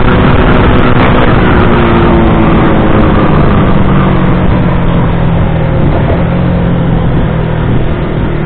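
A Rusi Flash 150X fuel-injected motorcycle pulls hard in third gear at around 92 kph, its engine droning loud and steady with a rising, sustained tone and heavy wind rush throughout.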